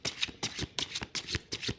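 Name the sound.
shuffling tarot cards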